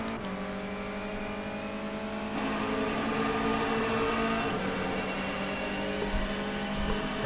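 A Honda Civic BTCC touring car in the racing game rFactor 2 drones continuously around Silverstone. The engine tone is loud and harmonic-rich, holds steady and then rises slightly midway, with a reverberant, echoey character and no talk.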